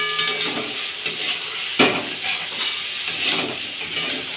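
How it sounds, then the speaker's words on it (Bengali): Cauliflower and potatoes are sautéed together in a pan for a Bengali fish curry, giving a soft, steady sizzle broken by several sharp knocks and scrapes of a stirring spoon. "ভালোভাবে কফি আলু একসাথে কষে নেব"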